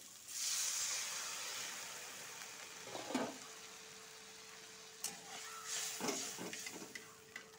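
Water poured into spices frying in a pan, part of a Bengali banana-flower fritter curry, makes a steady sizzling hiss that flares with a few sharper bursts of spitting and stirring.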